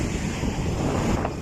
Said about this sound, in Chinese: 今天芽庄的天气太差了，乌云密布，还刮着大风